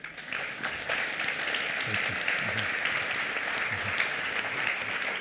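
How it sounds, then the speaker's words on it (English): An audience at a conference panel session at the Atlantic Dialogues 2014 gives a steady round of applause, dense and sustained for several seconds, with faint voices underneath. "Let's give them a round of applause."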